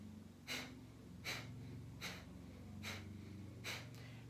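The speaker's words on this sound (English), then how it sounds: "but the exhale is a forced exhale" Five sharp, forceful exhales through the nose in qigong water buffalo breathing, evenly spaced about a second apart, with no talking.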